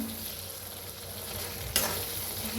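Thickened potato and yogurt curry with chillies being stirred in a pan, a low steady bubbling sizzle with one sharper scrape of the spoon partway through.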